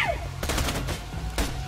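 Rapid automatic gunfire from a weapon in the Borderlands 2 shooter video game, with a couple of close, loud bursts of quick shots and a brief gap between them.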